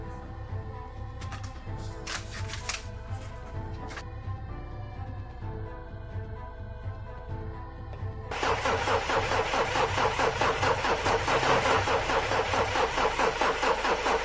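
A car engine cranks repeatedly without catching, the starter whirring in bursts, then grows into a louder sustained churning near the end, with no voices over it.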